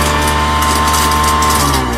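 An industrial garbage disposal in a medical facility grinds continuously, a loud dense mechanical drone with a steady whine, with nothing else around it.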